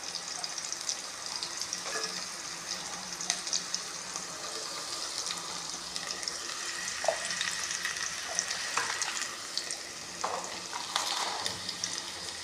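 Onions and green chilies sauté in a hot pan for prawn curry with rock salt and turmeric, a steady close frying sizzle with bright crackles and occasional stirring scrapes throughout, no talking.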